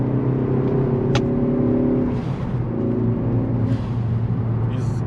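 A Ford Focus ST drives, its engine note close and steady with harmonic drone, pitch shifting as it accelerates and changes load, and a brief sharp tick near the start.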